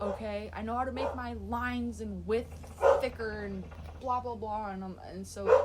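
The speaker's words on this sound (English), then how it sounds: "you can hear my dog in the background." A pet dog barks somewhere in the background of a home, faint and intermittent beneath a person talking steadily in the foreground.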